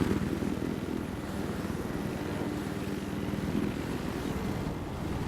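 A helicopter in the video game Battlefield 4 drones steadily and loudly throughout, a constant low rotor-and-engine roar with no talk over it.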